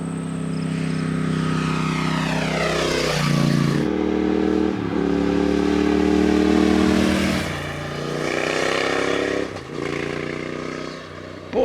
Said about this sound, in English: there's no mistaking the unique sound of this British parallel twin